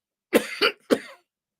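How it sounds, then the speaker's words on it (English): Three harsh coughs close by, two in quick succession and a third after a short pause, then silence. "I'm coughing like a 40-a-day smoker."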